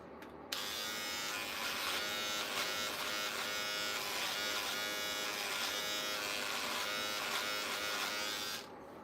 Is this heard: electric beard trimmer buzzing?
yes